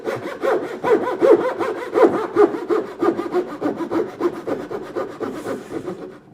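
A fine-tooth hand saw cuts wood for overlap drawers in a workshop, with rapid, rhythmic back-and-forth rasping strokes that are close and loud, fading slightly toward the end.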